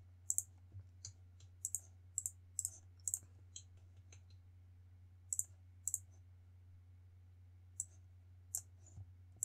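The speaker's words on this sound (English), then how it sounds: "just a lot of clicking around there" Sharp computer mouse clicks come in quick pairs and small bursts over a steady low hum while playing Football Manager, with pauses between clusters.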